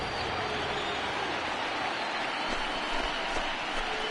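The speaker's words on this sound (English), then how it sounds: "I can hear the crowd murmuring now, wondering if he hit him on purpose" Stadium crowd in an MLB The Show baseball video game, NLCS Reds vs Phillies, murmuring as a steady, dense wash of noise after a batter is hit by a pitch, continuous and fairly loud with no talk over it.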